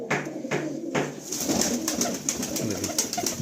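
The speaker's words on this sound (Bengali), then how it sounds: "দেখুন লফটে প্রচুর পায়রা আছে" Malwai pigeons cooing in a loft, soft repeated throaty coos and rustling close by, continuous with no talk.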